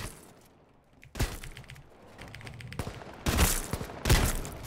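Gunfire in the online battle-royale game H1Z1: several sharp, loud bursts of shots at different moments, the last two clusters strongest, over a low background of game ambience.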